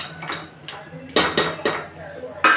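Mutton frying in a pan is stirred with a metal utensil that scrapes and clanks sharply against the pan in quick, close, irregular strokes.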